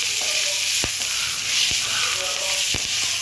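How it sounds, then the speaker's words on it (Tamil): Drumstick leaves and chopped onion sautéing in a pan with a steady bright sizzle throughout, broken by a few sharp taps of a spoon against the pan. "இதையும் நல்லா வதக்கிக்கலாம்."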